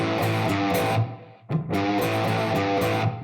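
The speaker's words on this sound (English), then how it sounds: "So here's the riff with that little bit of a snap to it." Distorted electric guitar playing a beginner rock power chord riff with a snappy attack, loud and up close, with a brief gap before the chords resume.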